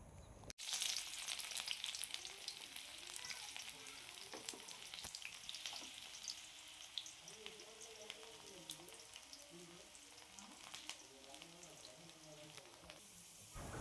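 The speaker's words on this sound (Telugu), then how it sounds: "ఆయిల్ వేడెక్కిన తర్వాత సన్నగా కట్ చేసి పెట్టుకున్న ఉల్లిపాయ ముక్కలు యాడ్ చేసుకోవాలి" Thinly sliced onion pieces fry in hot oil for a dhaba-style chicken fry, a quiet, even sizzle with scattered crackles and occasional stirring clicks, while a low voice murmurs in the background.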